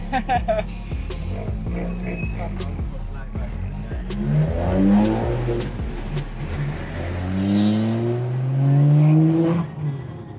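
Engine of a tuned 500+ kW BMW 135 revving in repeated rising and falling bursts, loud and nearby, with people talking over it.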